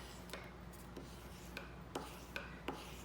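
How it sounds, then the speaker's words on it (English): A smooth plastic scissors handle rubbed back and forth over paper to flatten lumpy glue on a paper plushie canoe, giving soft, close scraping strokes with a few sharper rasps, no voices. "Take that smooth edge of your scissors handle and just go like that."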